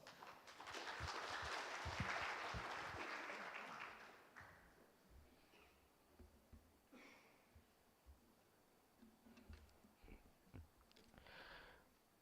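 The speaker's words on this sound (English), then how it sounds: "Please give round of applause." Audience applause at an international law and technology conference, rising quickly and holding for about four seconds before thinning into a few scattered, faint claps and small noises in a quiet hall.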